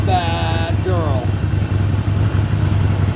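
A 2009 Harley-Davidson Sportster 48 1200 XL engine idles steadily with a low, even rumble throughout, while a voice talks briefly over the start.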